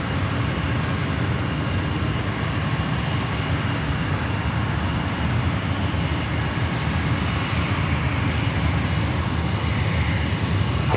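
A jet airliner takes off from San Francisco airport as a steady, loud roar of engines, sustained broadband rumble holding throughout with no speech.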